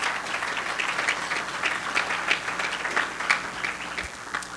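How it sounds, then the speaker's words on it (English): A room of gala attendees at a business awards event claps for the mentors, a moderate, fairly even patter of applause with individual claps standing out, lasting a few seconds before tapering off. "if I could please have a little round of applause"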